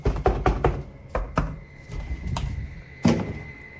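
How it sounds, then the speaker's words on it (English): Repeated sharp knocks on a door or wooden surface, blamed on a poltergeist, come in irregular clusters of hollow thuds, fairly close and loud with quiet gaps between. "this time with some annoying and incessant knocking"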